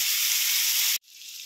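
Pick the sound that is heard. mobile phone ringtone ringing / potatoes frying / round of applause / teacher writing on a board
potatoes frying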